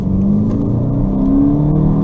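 VW Golf GTE plug-in hybrid, petrol and electric motors together, accelerating with a steady low engine hum and a rising whirring tone, heard from inside the car without talk.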